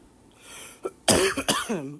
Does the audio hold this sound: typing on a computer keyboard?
no